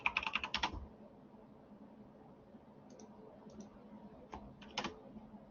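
A computer keyboard clatters with a quick burst of keystrokes as a command is typed, then falls quiet before a few scattered taps and a short final flurry near the end, close and clear.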